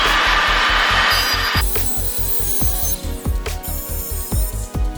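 A fast, loud mechanical rasping while exhaust header bolts are worked off a Honda Prelude, a hissing burst at first that gives way to steady rhythmic clacking close up, with no talking.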